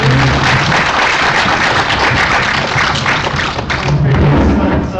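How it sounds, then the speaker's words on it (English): An audience at a challenge presentation event gives a team a round of applause, a loud, dense, sustained clatter of many hands with some thumping, with indistinct voices mixed in. "can we just have a round of applause for the team?"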